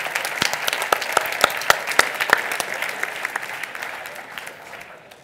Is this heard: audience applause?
yes